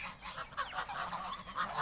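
Geese on a small Turkish farm honk faintly in a steady, overlapping chatter, distant and low in level, with no talk over them.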